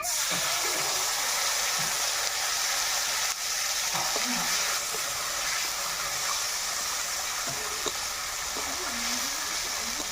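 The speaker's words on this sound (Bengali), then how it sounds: "মশলাটা ভালো করে কষে নেব" A ground spice paste fries and sizzles steadily in hot oil in a pan for a Bengali fish and mixed-vegetable curry, with a continuous close hiss broken by occasional stirring scrapes.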